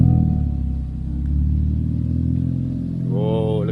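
Mitsubishi Lancer GTE engine idling and revving through a new aftermarket exhaust, a deep close rumble that swells and eases, with voices talking over it near the end.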